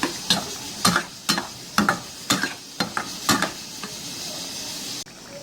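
A spoon scrapes and stirs green chilies through frying mutton liver masala in a pan, with about ten evenly spaced strokes over a steady sizzle and no talking.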